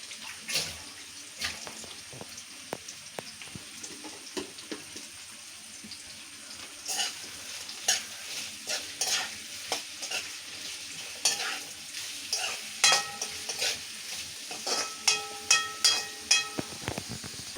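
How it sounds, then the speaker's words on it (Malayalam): Sliced onions with salt sautéing in a pan for a jackfruit dish, a soft sizzle under repeated scraping and stirring strokes that grow louder and more rhythmic toward the end. "സവോള ചേർത്ത് കൊടുക്കാം. സവോളയ്ക്ക് ആവശ്യമായിട്ടുള്ള ഉപ്പ് ചേർത്ത് കൊടുക്കാം."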